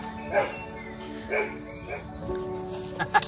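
A female dog gives several short, soft barks or yips, spaced about a second apart, close by in the outdoor shade, with people talking quietly nearby.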